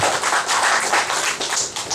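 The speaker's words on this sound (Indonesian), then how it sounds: "Tepuk tangan Pak Kecik kita." A crowd at a community gathering of radio amateurs in Banda Aceh applauds, many hands clapping in a dense, even patter that stays loud and close across the whole stretch with no talking.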